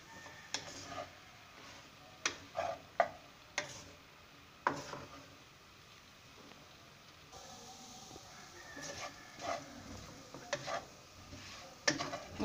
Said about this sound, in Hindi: मुसलसल चम्मच हिला के मैं इसको भून रही हूँ ब्रेड को।